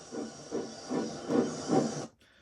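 Four rhythmic steam-engine chuffs over a constant hiss of steam, evenly spaced, then an abrupt cut to quieter hiss at the end.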